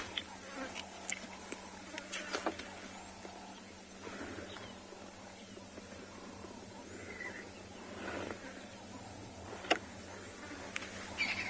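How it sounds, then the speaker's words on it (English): Flies and other insects buzzing close around the head on an evening safari at Tswalu in the Kalahari, a faint, steady drone with brief louder passes near the ear and no talking. "all I can hear is the sound of the flies buzzing around my head"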